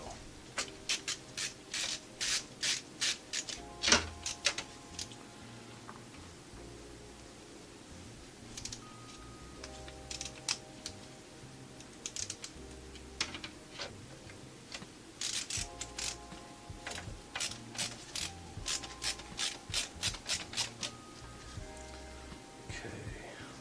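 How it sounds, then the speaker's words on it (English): A small ratcheting screwdriver driving screws while a PC is assembled: fast bursts of light, rhythmic clicking ratchet ticks, close and fairly quiet, repeating in several runs with brief pauses, while someone talks intermittently over them. "I've got this nifty little screwdriver"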